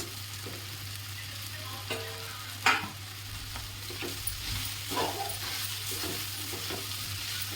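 Washed poha goes into a hot pan and is stirred and fried, giving a steady soft sizzle broken by scattered scrapes and clinks of a spoon against the pan, with no one talking.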